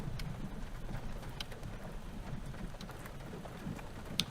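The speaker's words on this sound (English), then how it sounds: "oh, got some lightning and the rain" Steady rain falls during a storm chase under a tornado watch in the Upper Midwest, a constant soft hiss with scattered drop ticks and a low rumble beneath, fairly faint.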